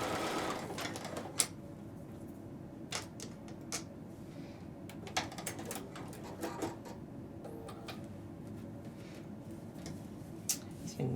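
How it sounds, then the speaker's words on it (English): Domestic sewing machine stitching a straight quilt seam for a Little Lone Star block, a steady low mechanical whir with occasional sharper clicks and taps, close and alone with no talk. "So you're going to sew along that straight line there."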